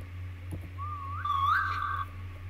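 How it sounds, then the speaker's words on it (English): A person whistles a single rising, wavering tune for about a second and a half, clear and close, over a steady low hum from a computer while playing a Roblox game. "But can you whistle?"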